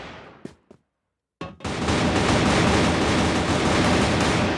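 Gunshots in the video game CrossFire during a competitive match: a few sharp close shots crack out, then a dense, loud wash of continuous fire fills the rest of the clip.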